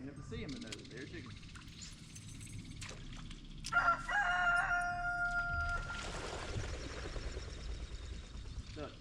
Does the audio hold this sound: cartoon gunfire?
no